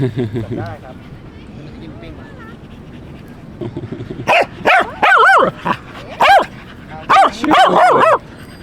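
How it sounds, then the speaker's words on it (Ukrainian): Several corgis barking and yipping in a park in Bangkok, with sharp, rapid bursts of barks close by in clusters, after a stretch of calmer park ambience where voices are heard. "Дуже багато коргів."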